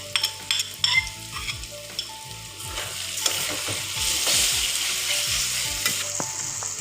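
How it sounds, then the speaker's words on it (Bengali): Ginger and garlic paste frying in a pan for duck curry, a loud steady sizzle under repeated clattering spoon scrapes and knocks against the pan, close and busy, with no talking. "এই পর্যায়ে আমি দিয়ে দিব এখানে আদা বাটা 2 চামচ, রসুন বাটা 3 চামচ"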